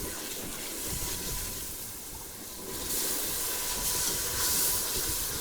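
Chilli masala tempering hisses loudly in a pot, with a steady broadband sizzle that swells into a brighter, louder burst partway through and then holds, close and continuous with no voices.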